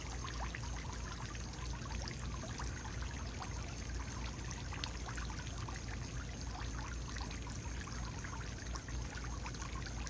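Water from a floating fountain pump in a garden pond splashes and streams continuously at night, a steady close rushing patter with no voices.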